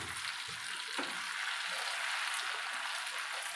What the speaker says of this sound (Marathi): त्यात आपल्याला गट्टे फ्राय करून घ्यायचे